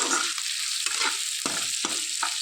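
Potatoes frying in oil in a pan, a continuous close sizzle broken by several stirring scrapes at roughly regular intervals, with no talking.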